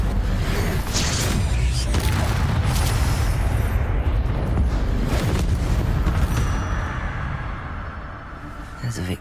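In the Hogwarts Legacy video game, an Incendio fire spell erupts in a loud, sustained roaring blast with booming bursts and crackling, which tapers off near the end.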